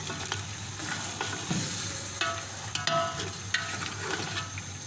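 Mutton mixed with yogurt fries in a pot with a loud, steady sizzle, broken by repeated scraping strokes of stirring.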